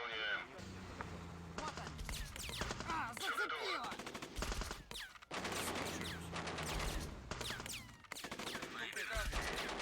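Gunfire in the Men of War video game as enemies shoot at a sergeant. Rapid machine-gun bursts and single shots crackle in dense clusters across the scene, broken by brief pauses, loud and close.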